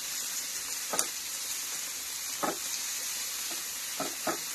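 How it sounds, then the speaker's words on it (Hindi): Carrots and bell peppers sauté in a pan with a constant bright sizzle, punctuated by a few sharp stirring scrapes spaced a second or two apart. "इन्हें हमें सौटे करना है जैसे कि आप देख रहे हैं।"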